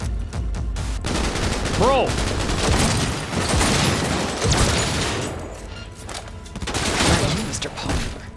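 Dense, continuous automatic gunfire in a Cyberpunk 2077 shootout, loud and close, with bursts blending into a sustained roar and a brief voice cutting in.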